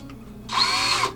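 A power drill drives screws into a wooden beehive box, a single steady whir of just over half a second that starts abruptly after a quiet moment and stops cleanly, close and alone.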